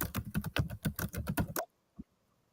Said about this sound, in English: Mad typing sounds.